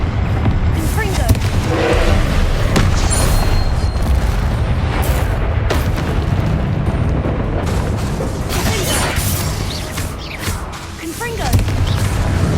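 Repeated Confringo fire-spell blasts in the Hogwarts Legacy video game come as a continuous run of booming explosions over rumbling combat noise. Loud and dense throughout, with sharp bursts punctuating the steady low roar.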